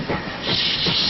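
A steam engine lets out a continuous loud hiss of escaping steam, rising slightly in strength over about a second, with no voices.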